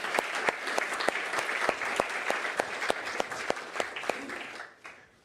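Audience applause at a forum on an India–Sweden–EU free trade agreement, sustained dense clapping from a sizable crowd that fades out near the end, with a brief spoken word.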